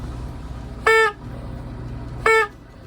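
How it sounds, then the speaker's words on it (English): Improvised foghorn sounded from a boat in dense summer fog off Scotland: two loud, steady horn blasts, each about a quarter second long and about 1.4 seconds apart, over low background rumble. "Scottish foghorn"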